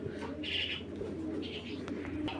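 Iranian Huma pigeons cooing nearby in a few soft bursts, with other bird chirps mixed over a low background hum.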